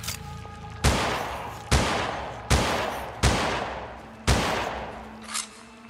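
Five loud, evenly spaced gunshots from the player's gun in the survival horror game Holstin, each a sharp close blast followed by a decaying tail, with a faint extra thump near the end and no talking.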